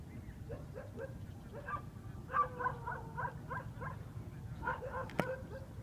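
Dogs barking outdoors at a rural house, including a wolf-like dog, in a run of short repeated yelps and barks at moderate distance over a steady low rumble of background noise.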